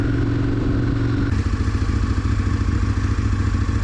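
A Faketory motorcycle rides along with a steady mid-pitched engine drone and wind rush, and the engine note shifts into a choppier, pulsing rhythm partway through, with no talking.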